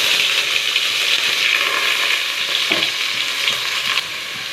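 Onions frying in a couple of spoonfuls of oil with cinnamon, cloves and cardamom for a kaara kuzhambu: a loud, dense, continuous sizzle heard close up, dipping slightly near the end, with no voices.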